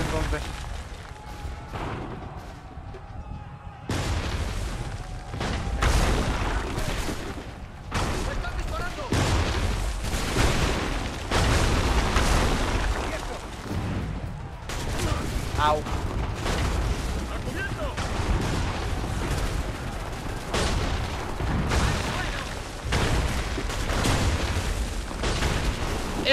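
Trench-warfare combat in Assassin's Creed III: a relentless barrage of gunfire and booming explosions, loud and nearly continuous, with brief lulls between heavy volleys.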